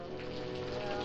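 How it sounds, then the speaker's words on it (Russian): Steady rain falling, a continuous close patter and hiss with an even texture throughout, no pauses or voices. "Дождь идет."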